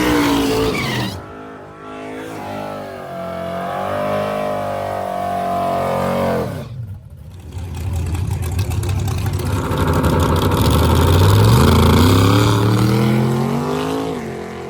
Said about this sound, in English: We got a couple of our NA big block cars in the water box, getting ready to see them get down